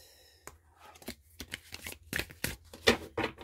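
Tarot cards being shuffled up close make quick, crisp riffling and flicking bursts in an irregular rhythm, fairly quiet against a near-silent room.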